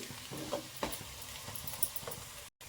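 Dry masala for egg curry being stirred in a pan over medium flame, a soft steady sizzle broken by a few scraping strokes of the spoon, quiet and close, with a brief dropout near the end.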